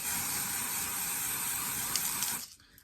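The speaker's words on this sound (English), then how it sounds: "This is the Eben lace tinting spray" A continuous hissing of lace tinting spray onto a wig runs for a couple of seconds without a break, then cuts off abruptly into near silence.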